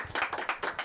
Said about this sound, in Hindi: दोस्तों प्लीज डीन के लिए तालियां हो जाए